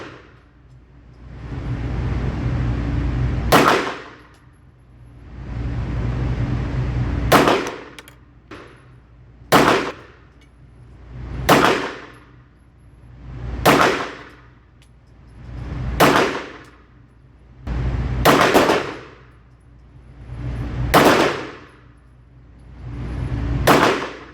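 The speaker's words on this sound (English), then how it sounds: "So this is the next we're going for the Staccato P at the green" A Staccato P pistol fires single shots at a steel target, about nine sharp, loud cracks spaced roughly two seconds apart. A rushing outdoor noise swells between the shots.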